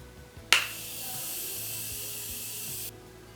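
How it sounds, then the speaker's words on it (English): One long, even spray of makeup setting mist onto a face: a sharp click-like onset, then a steady soft hiss lasting over two seconds before stopping abruptly, close and fairly quiet. "I'm gonna go back in with the setting mist."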